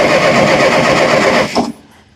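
A Massey Ferguson TO30 tractor engine cranks steadily without choke, a loud continuous churning that holds for about a second and a half, then cuts off abruptly and leaves near silence.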